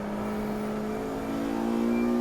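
Race cars circulating at Brands Hatch, among them a white VW Polo, a close, steady high engine whine with a rich harmonic drone that swells slightly toward the end, continuous and without talk.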